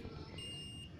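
A multimeter set to continuity range gives a steady electronic beep lasting under a second, tested near a fuse while checking a vehicle battery setup.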